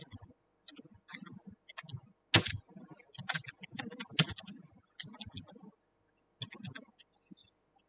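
Close, irregular keystrokes on a computer keyboard in a computer operation class, coming in short clusters of clicks broken by brief pauses.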